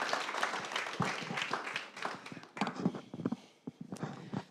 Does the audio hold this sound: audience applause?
yes